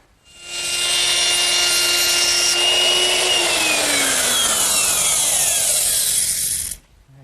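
A power router cuts a rabbet into a wooden backsplash for a Shaker washstand, whining loudly and steadily for about six seconds before its pitch slides down and it cuts off, with no talking.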